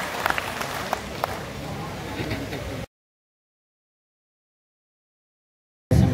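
An audience at the Karnataka State Samagara annual general meeting applauds in a dense, steady patter for about three seconds, then goes abruptly silent before a loud burst of sound returns at the end.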